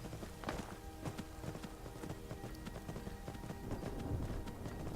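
Horse hooves clop steadily along a road in the video game Skyrim, a quick repeating rhythm of close, moderately quiet hoofbeats that runs without a break and has no talk over it.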